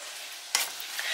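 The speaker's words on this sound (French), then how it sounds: "Je mélange un peu parce qu'on a mis un petit peu d'huile sur le fond de la casserole." Leeks sizzle steadily in a little oil in a pan while being stirred, with a brief scraping stir standing out midway.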